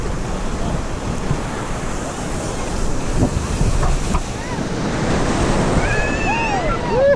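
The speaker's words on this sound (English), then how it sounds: "These waves are not strong at all." Ocean waves roll and break on a beach in steady surging washes, with wind buffeting the microphone and faint voices in the background.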